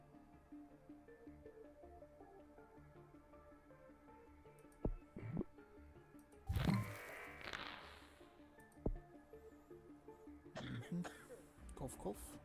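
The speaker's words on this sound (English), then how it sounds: "Cough, cough." Several coughs and throat-clearing sounds from the Plague Inc video game stand out clearly over quiet background music, with short bursts early on, a big burst in the middle and more near the end.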